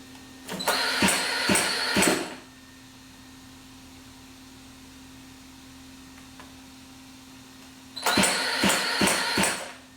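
Small Zenoah G320 petrol engine fired up by an FID electric onboard starter, two short loud bursts of whirring and cranking around two seconds each, separated by a quiet stretch with a steady low hum.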